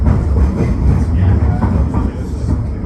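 An old Blackpool tram rides along the promenade past busy seafront hotels, giving a continuous low rumble with rhythmic rail clatter throughout, heard from on board and fairly loud.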